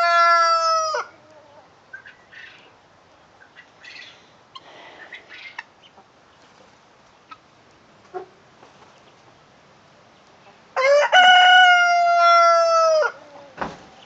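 A rooster crows loudly nearby on a farm, then quiet with faint chicken clucks and small sounds, before a second long crow near the end.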